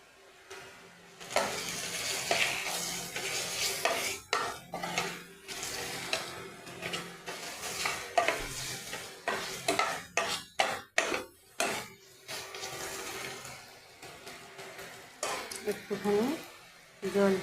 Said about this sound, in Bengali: মশলা কষানো হয়ে গেছে, মশলা থেকে তেল ছেড়ে দিয়েছে।